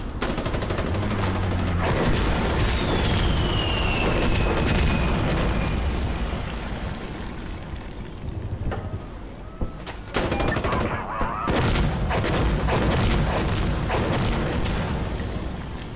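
Rocket barrage in a realistic tactical first-person shooter: loud, continuous rumbling blasts and crackling gunfire, a whistling streak as a missile flies overhead, a brief lull, then heavy explosions resuming near and loud.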